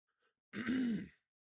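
A single throat clearing, a short rough hum-like rasp lasting under a second, close and isolated in quiet.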